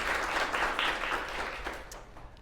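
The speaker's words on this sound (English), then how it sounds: "let's give her one more round of applause" An audience applauds steadily, a dense wash of clapping that fades toward the end, with no talk over it.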